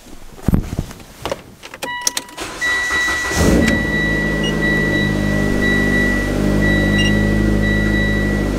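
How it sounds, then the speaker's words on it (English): A Mitsubishi Lancer turbo engine cranks and catches after a few clicks and rustles, then settles into a steady, loud idle. "fired up this car"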